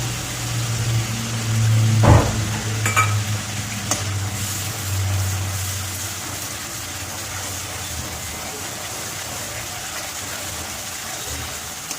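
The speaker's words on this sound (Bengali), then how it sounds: "এবার দিয়ে দেবো আদা বাটা, রসুন বাটা।" Ginger and garlic paste fries in a pan and is stirred, a steady low sizzle under a constant hum, with a brief clatter from the spoon early on and no talk.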